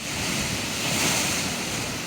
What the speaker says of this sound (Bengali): ভোলায় বইছে ঝোড়ো বাতাস